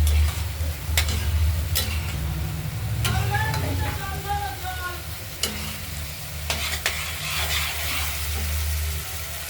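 Spice paste for a fish curry fries in a pan with a dense, close sizzle and crackle, broken by a few sharp clinks of a spatula stirring against the metal, continuous throughout.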